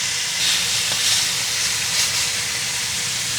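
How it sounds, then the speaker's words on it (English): Pot roast searing in a hot pan gives a steady, close sizzle and hiss with a few soft crackles, with no talk over it. "That sear is looking really nice."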